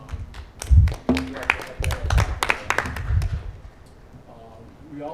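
A meeting audience applauds a police officer. Scattered claps come in uneven bursts mixed with talking voices, then fade into quieter room noise toward the end.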